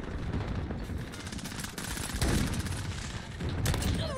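Dense, continuous gunfire from a shooting video game played on a controller, rapid bursts and loud shots packed together with no pauses and no talking over them.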